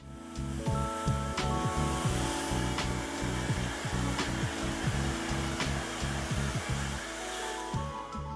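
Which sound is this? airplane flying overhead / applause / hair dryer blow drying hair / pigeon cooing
hair dryer blow drying hair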